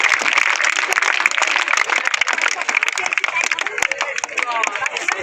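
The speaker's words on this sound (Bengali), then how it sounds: "সকলে হাততালিটা একটু জোরে দাও" Audience applause at a school prize distribution during an annual sports event, a steady mass of clapping with sharp individual claps throughout, mixed with voices and crowd chatter.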